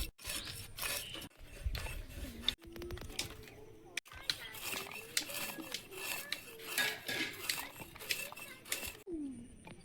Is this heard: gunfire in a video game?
no